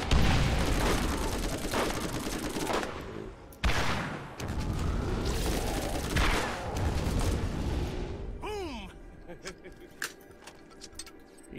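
Dense gunfire and a grenade blast in the video game Borderlands, a loud rattling barrage for the first seconds, a brief break, then more firing that thins into scattered pops, with voices talking over it.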